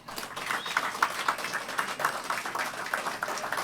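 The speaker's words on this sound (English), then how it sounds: "And let's give her a big applause." An audience at a Veterans Day fundraiser applauds a veteran's widow, a steady patter of moderate hand claps at a fair distance, continuing evenly for a few seconds.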